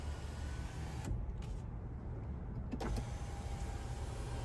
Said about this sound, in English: you have a power one-touch tilt and sliding sunroof in the front